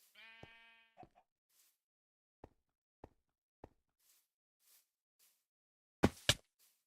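A Minecraft sheep gives one clear, close bleat near the start, followed by sparse soft clicks and taps and a louder double knock toward the end.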